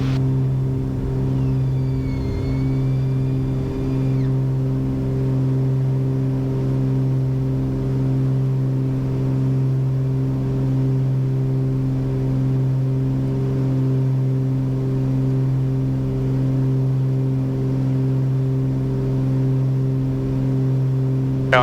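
Twin engines of a Baron airplane drone steadily during the climb after takeoff, a loud, unbroken cabin hum with stable tones and a faint warbling tone near the start.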